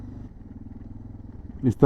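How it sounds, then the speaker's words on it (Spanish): A Japanese motorcycle engine idles with a low, even pulsing rumble, while someone talks over it and a louder clatter bursts in near the end. "Esta moto no tiene nada de electrónica"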